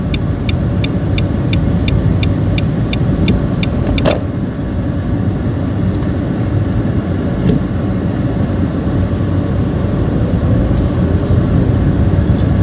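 Nissan March 1.2 small hatchback driving steadily while hunting for a parking spot, a continuous close cabin engine and road rumble with a brief ticking sound early on and a sharp click near four seconds.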